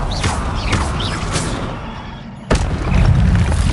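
A fire spell blast in Hogwarts Legacy on PS5 bursts out as a sudden loud boom near the middle of the clip. It sits over a steady bed of game ambience and effects.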